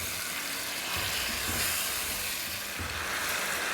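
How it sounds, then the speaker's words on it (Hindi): Paya (goat trotters) sizzle with yogurt in a pot, giving a steady, close, hissing fry that stays even for the whole few seconds with no voices. "दही के साथ भी 2-3 मिनट भून लेंगे।"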